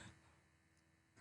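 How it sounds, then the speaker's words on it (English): One short, sharp cough, close and fairly loud, comes abruptly at the very end after near silence. "I have a little bit of cough."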